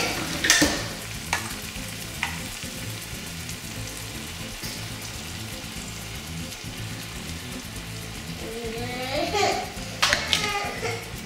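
Sauce sizzling and bubbling in a pan after liquid is poured into sun-dried tomato gravy, a moderate crackle with a few stirring knocks and a voice briefly in the background.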